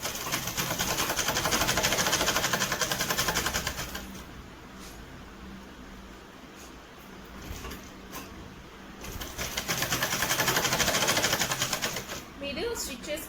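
A sewing machine stitches a frill onto a puffy birthday frock in two fast whirring bursts separated by a quieter pause, with someone talking throughout.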